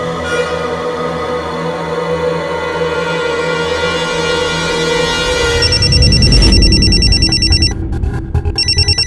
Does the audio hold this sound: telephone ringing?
yes